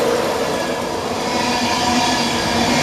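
A train rolling through Northallerton station, a loud, steady, close wash of wheel and rail noise with a faint squealing edge and no speech.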